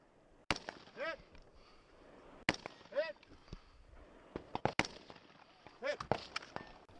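Rifle shots ring out at a competition stage against steel plates at 40 to 60 yards and a 300-yard silhouette, with sharp cracks a few seconds apart. Some are followed by high ringing tones, with smaller impacts between, and a voice talks faintly underneath.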